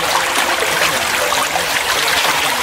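A small outdoor stream flows with a constant bright babble and trickle, close and fairly loud, steady throughout with no voices.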